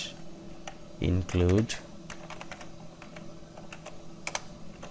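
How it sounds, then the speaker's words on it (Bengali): Keys clatter in quick bursts on a computer keyboard as C++ code is typed, with a voice speaking briefly in between the scattered clicks. "প্রথমে আমি কোডগুলোকে টাইপ করে লিখে যাচ্ছি"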